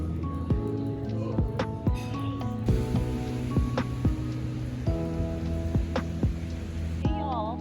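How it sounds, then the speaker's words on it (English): Heavy rain pours down while a car is at a gas station, a dense steady patter with sharp drops and drips hitting surfaces nearby, loud and continuous throughout. "It is raining so hard."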